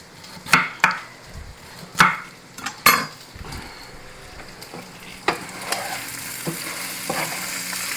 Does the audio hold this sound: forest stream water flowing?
no